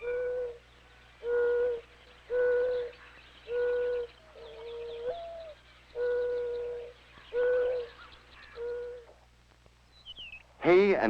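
A mourning dove gives a string of about seven soft, steady, hollow coos at even intervals, close and clear against quiet countryside, with a brief squeal at the end.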